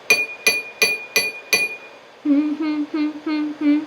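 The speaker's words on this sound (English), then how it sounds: "I'm going to take my spoon and I'm going to tap on the purple jar" A spoon taps gently on the rim of a purple glass jar used as a water xylophone: five bright, ringing clinks at an even pace, followed by a few softer, lower pitched tones.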